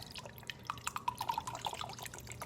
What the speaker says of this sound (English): So I'm going to take my measuring cup, fill it with rubbing alcohol.